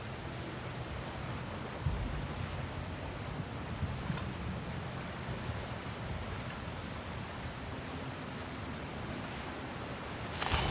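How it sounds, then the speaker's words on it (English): Steady broadband wash of rushing water in the video game God of War Ragnarök, in a mine, continuous and fairly faint, with no voices over it. "Sounds like you got the water moving along"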